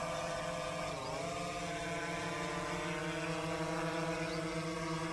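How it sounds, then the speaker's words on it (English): A SPLASHdrone's motors whine steadily as the drone descends and lands itself during ground testing, a layered tonal hum that dips briefly in pitch and then holds, fairly quiet and without talk. "the aircraft's starting to descend itself"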